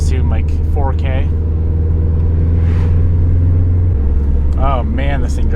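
A built Subaru STi is driven, its engine droning steadily with a deep rumble heard from inside the car. The pitch drops at one point, and voices come in briefly over the engine.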